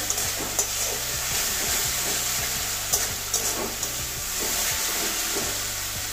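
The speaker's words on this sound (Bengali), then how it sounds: "মশলা কষানো হয়ে গেছে, মশলা থেকে তেল ছাড়ছে" Masala paste for katla fish curry fries in oil in a pan, a steady close sizzle with occasional wooden scrapes and stirring knocks over several seconds, with no speech.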